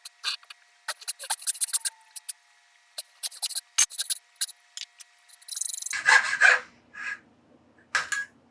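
A fret saw cuts dovetails in wood in quick rasping bursts, a stretch of strokes in the first half, a pause, then more strokes, with a louder scraping patch near the end.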